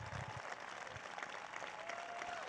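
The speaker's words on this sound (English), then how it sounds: "Give them applause, all these people who stood up." Applause from an audience at a presidential event celebrating the Inflation Reduction Act, a steady wash of clapping heard from a distance, fairly quiet and continuous throughout.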